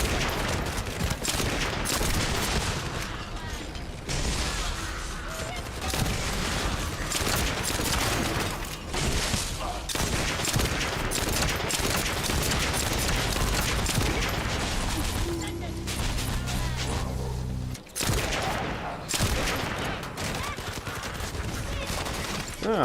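Rapid, heavy hand cannon gunfire in the video game The First Descendant booms over and over in dense bursts, loud and nearly continuous, with a voice talking underneath.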